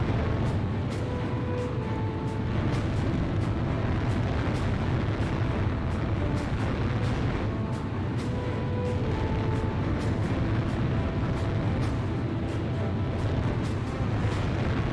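In the Ace Combat Zero: The Belkan War flight game, missiles burst in dense repeated booms over a constant roar of jet engine noise, loud and continuous with no pauses and no voices.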